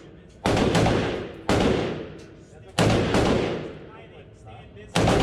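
Four loud AR-15 rifle shots fired from a bipod at an outdoor shooting range, each a sharp blast with a long decaying echo, spaced roughly a second or more apart.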